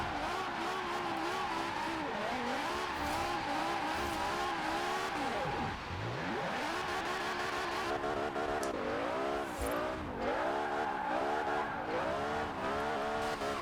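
A V10-swapped BMW Z4 in Forza Horizon 4 revs hard and continuously, its engine rising and falling through gear changes with tire squeal as it drifts through corners, loud and unbroken.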